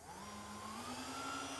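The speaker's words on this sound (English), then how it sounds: "let's see if this track vacuum cleaner turns on" A homemade model railway track vacuum cleaner switches on and runs with a steady whirring motor hum whose whine rises slightly in pitch, close and continuous, with no talking.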